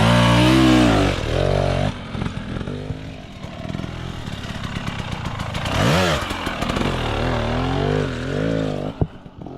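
Dirt bike accelerating up a hill during race training, its engine revving hard and close with rising and falling pitch sweeps, several throttle bursts across the run, loud and unbroken with no talk over it.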